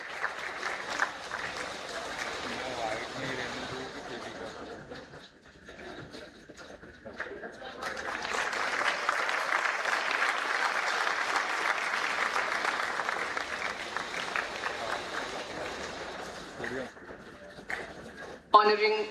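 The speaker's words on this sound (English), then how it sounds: "A big round of applause, ladies and gentlemen." At a management institute's convocation, an audience applauds an award recipient with a sustained, fairly distant round of clapping that swells midway and continues at a steady level.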